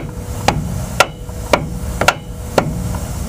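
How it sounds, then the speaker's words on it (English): A lead hammer beats a wire wheel spinner onto its rim in five sharp, ringing metallic blows, spaced about half a second apart, close and loud against a quiet background. "beat the spinner onto the rim"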